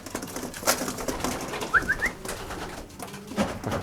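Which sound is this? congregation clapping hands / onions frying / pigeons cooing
pigeons cooing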